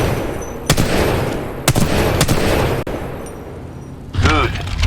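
Gunfire in the first-person shooter game Titanfall 2, several sharp loud shots spaced about a second apart over a constant dense background, ending with a ringing mechanical burst.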